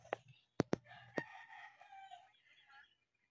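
A rooster crows nearby, a hoarse drawn-out call preceded by a few sharp knocks, fairly faint overall.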